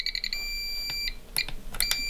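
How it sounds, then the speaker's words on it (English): Quick high-pitched electronic chirps from a model aircraft radio transmitter setup followed by a steady tone marking the center position, then scattered short beeps and clicks, moderately loud over a faint background hiss. "We're gonna listen for a beep in the middle."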